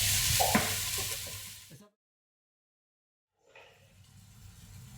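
Red peppers and onions sizzle while being stirred in a pan, a close frying crackle with spoon scrapes that cuts out completely for about two seconds and then resumes more softly.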